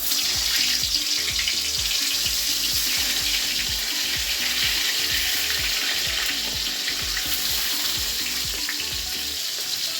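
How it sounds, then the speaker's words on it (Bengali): Pieces of pointed gourd (potol) fry in hot oil in a wok, giving a steady dense sizzle with a rhythmic scraping of stirring throughout and no voices. "তেলটা গরম হয়ে গেছে, তো আমি এবার এর মধ্যে পটলগুলো ফ্রাই করে নেব"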